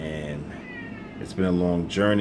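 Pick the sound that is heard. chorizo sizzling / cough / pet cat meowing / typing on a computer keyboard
pet cat meowing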